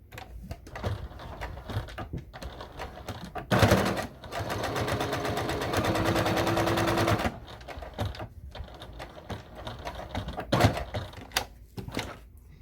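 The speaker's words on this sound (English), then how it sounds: "what we want to do is sew right across those 2 lines" A sewing machine stitches across two lines on a fanny pack belt bag, running in one steady mechanical burst of about three seconds between quiet handling clicks and taps.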